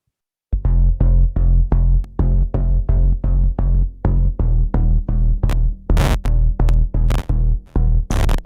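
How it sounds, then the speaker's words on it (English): An electronic bass line from a song plays alone, a run of deep, punchy synth notes in a steady even rhythm with brief gaps, loud and close, with a few higher transients near the end. "I'll play the bass again for you."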